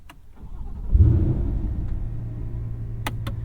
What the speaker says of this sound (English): before we start the engine, we're going to bring the car to life